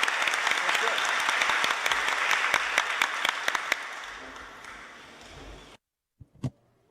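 Applause at a closing ceremony, a full crowd clapping with sharp individual claps standing out, tapering off over several seconds before cutting to near silence with a brief thump at the end.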